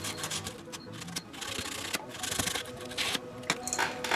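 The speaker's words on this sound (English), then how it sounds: "Trying to get the slot thicker with some sandpaper" Sandpaper rubs back and forth in a slot sawn into a hand-made wooden crankbait lure, a close, scratchy rasping in irregular strokes with small knocks between passes.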